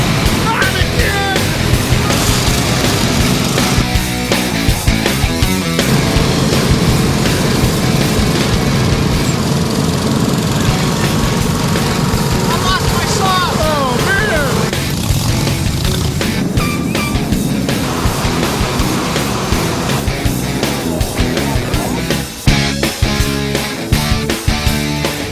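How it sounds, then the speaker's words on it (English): Garden tractor engines run together at the start of a charity poker run, a loud, continuous, buzzing mower-like roar with engines revving and shifting up close throughout. "We heard about this poker run with garden tractors"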